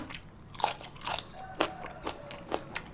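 Someone bites and chews crunchy pounded jellyfish salad with fresh shrimp, close and crisp, about six sharp crunches at an uneven pace with quiet pauses between them.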